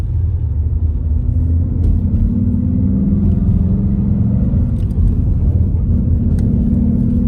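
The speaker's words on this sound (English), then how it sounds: "so we're gonna hit a few bumps here and see if that really fixes it" A wrecked 2017 Ford Mustang GT fitted with Ford OEM GT350 conversion parts drives over bumps, heard as a steady, loud low cabin rumble with a few faint knocks.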